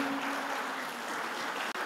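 Church congregation applauding during a worship service, a dense continuous wash of clapping held steady throughout at a moderate distance, with a faint sustained tone underneath early on.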